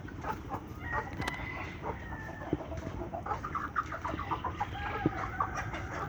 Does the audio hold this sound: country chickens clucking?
yes